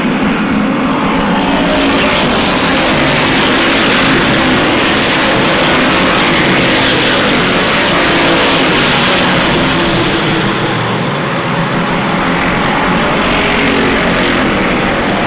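Dirt modified race cars at Airborne Speedway in Plattsburgh, New York, make a loud, steady roar of engines that fills the whole stretch with no break. There is no audible talk.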